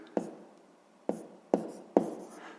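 Hand-writing a fifth-grade math exercise with fractions, four distinct tapping strokes of a pen or chalk on the writing surface, each a sharp attack with a short scratchy tail, spaced unevenly.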